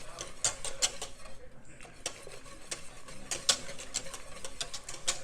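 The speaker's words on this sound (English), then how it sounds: "I'm going to slowly add in some bone broth and continue whisking" Bone broth is whisked into a hot pan, a metal whisk clicking and scraping against it in quick, uneven strokes, close and clear with faint sizzling behind.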